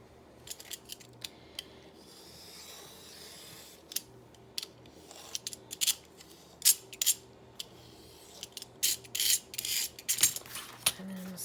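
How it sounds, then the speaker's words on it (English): Scissors snip and trim paper journal pages in quick, sharp, irregular cuts, close and fairly quiet, with soft rustling of paper between snips. "And do a little trimmy trim."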